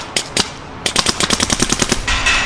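A DLX Luxe ICE paintball marker fires two quick shots, pauses, then lets off a rapid string of about a dozen sharp pops close by, ending in a hissing burst of air.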